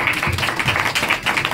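Children at a Gayatri Shaktipeeth children's camp clap in a quick, even rhythm. The claps come as a run of close, loud beats, with faint voices underneath.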